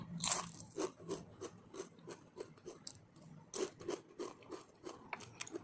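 Crispy baked imported vegetable snacks are bitten and chewed close up, giving a rapid, irregular run of loud crunches with no talking.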